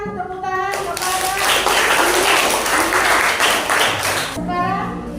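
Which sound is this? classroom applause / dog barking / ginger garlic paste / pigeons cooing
classroom applause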